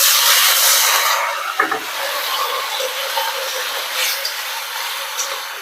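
Water poured onto a ground paste of cumin, ginger and dried chilli in a hot pan for a broccoli and small-fish dish, giving a loud steamy hiss that fades into a steady sizzle, with no voices.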